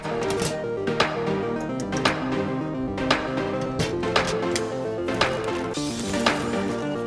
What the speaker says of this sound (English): Change the coleslaw blade to grating disc and grate some carrots